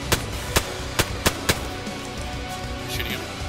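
Gunshots in the survival video game DayZ, five sharp cracks in quick succession over the first second and a half, followed by quieter background game ambience.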